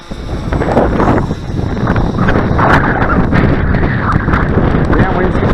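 Strong, heavy wind buffets the microphone outdoors at an RC jet flying field, making a loud, continuous roaring rumble that runs throughout.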